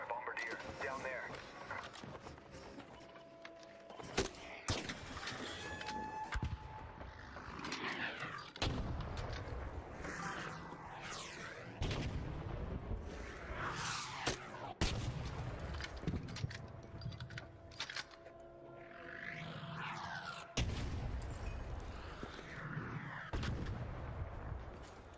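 Heavy artillery fire from a Bombardier robot in Arc Raiders, loud repeated booming blasts and bursts spread through the stretch, with people talking over much of it.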